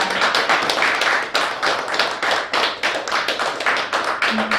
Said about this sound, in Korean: 우리 큰 박수로 서로에게 박수 부탁드립니다